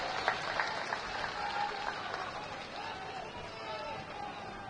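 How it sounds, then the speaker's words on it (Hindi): Crowd at a politician's Bihar election rally clapping with both hands raised, a steady wash of applause mixed with scattered voices and babble, fairly distant and continuous throughout. "दोनों हाथ उठाकर ताली बजा दीजिए तो मैं मान लूं"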